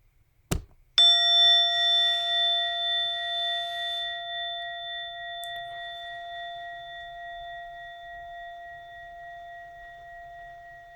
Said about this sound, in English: you're going to hear a bell or a chime. Listen to it as it gets quieter and quieter